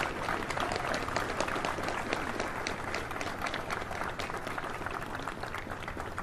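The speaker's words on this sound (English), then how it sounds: "Give them a round of applause." Dense applause from a sizable crowd at a military oath of enlistment ceremony, steady and sustained throughout, with many overlapping claps.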